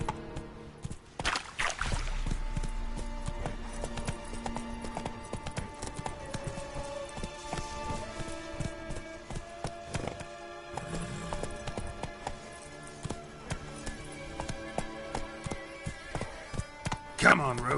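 Roach the horse gallops in The Witcher Wild Hunt, a rapid rhythmic clip-clop of hooves that runs almost continuously and close up. A voice speaks over the hoofbeats.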